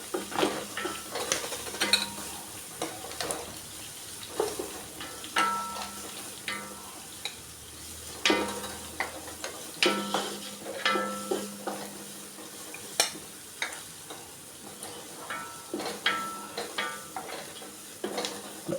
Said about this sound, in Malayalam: ഇതിവിടെ ഷാലോ ഫ്രൈ ആയി വന്ന് ഇനി നമുക്കിതിനെ കോരി വയ്ക്കാം.